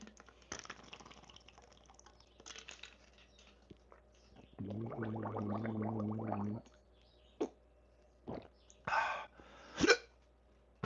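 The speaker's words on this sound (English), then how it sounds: "Drink water to stop the hiccups if it was that easy" A person hiccups while trying remedies like drinking water and holding their breath, giving several sharp, separate hiccups near the end, with a swallowing or gulping stretch just before them.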